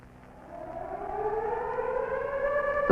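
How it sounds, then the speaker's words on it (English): A civil defense attack warning siren winds up from a low growl into a rising, sustained wail, steady and fairly distant, with no other sounds over it. "The sound of sirens or other warning devices means listen to a radio."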